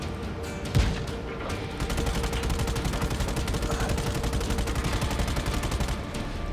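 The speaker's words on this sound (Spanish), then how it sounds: "de dos posibles disparos solo me comí uno" Continuous rapid gunfire with a sharp blast near the start, dense and steady throughout, like automatic weapons in a game.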